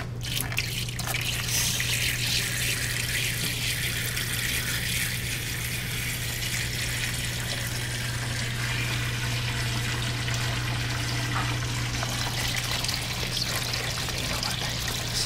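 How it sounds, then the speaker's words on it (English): Fresh water poured from a 3 liter jug down the side of a hydroponic nutrient tank, a steady continuous splashing trickle running the whole time over a constant low electrical hum. "now we will add fresh 9 liter water from this 3 liter jug"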